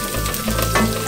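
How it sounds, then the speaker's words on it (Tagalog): Garlic and onion sautéing in a pan, a close, loud, steady sizzle with brief stirring shifts, no talking, over about a second. "first igisa natin ang bawang at sibuyas"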